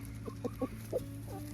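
Chickens on a farm give a few soft, quick clucks over a low steady hum. Each cluck is brief and faint, coming from close by.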